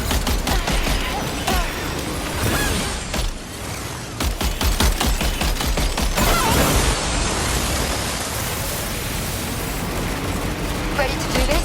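Dense, continuous automatic gunfire from a firefight in the video game Death Stranding 2, loud and close with rapid overlapping bursts filling the whole stretch, brief voices faintly under the shooting.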